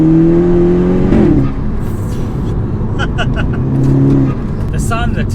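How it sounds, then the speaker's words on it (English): Inside a VW Golf GTI with a TFSI engine, the motor revs up and accelerates with a rising drone, then drops and builds again, loud and close in the cabin, with brief knocks and clicks near the end. "The sound of the TFSI is just rude"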